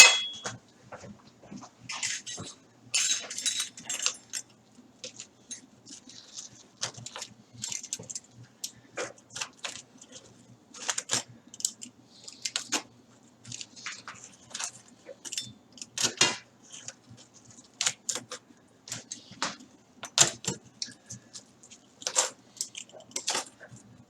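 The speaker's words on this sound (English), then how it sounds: "then we're ready to start cutting the pizza" A pizza is sliced on a cutting board into twelve pieces, with a run of short, sharp clicks, scrapes and taps from the blade against the board, close and fairly quiet, in irregular bursts.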